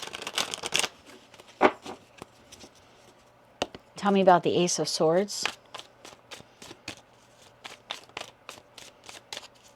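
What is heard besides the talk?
tarot cards being shuffled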